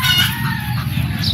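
A Golden Boy rooster clucks loudly and continuously at close range in a backyard poultry yard, its calls steady through a short burst.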